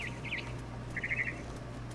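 Bird chirps from the video game What Remains of Edith Finch come in two short bursts of high, clear tweets over a low steady hum.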